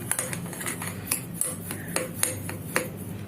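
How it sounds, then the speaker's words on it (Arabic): Spoon or whisk scraping and tapping against a bowl while dry ingredients with cocoa are stirred together, a steady close scraping with several sharp clinks spaced through it. "هنقلب المواد الجافه كده مع بعضها"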